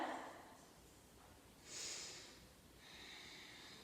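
Soft, long yoga Ujjayi breaths drawn in and out through the throat, a gentle airy rush rising and fading twice over a faint background hiss, no talking.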